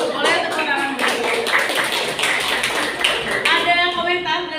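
Classroom applause during a teacher training poetry session, a steady patter of many hands clapping at close range throughout, with voices mixed in.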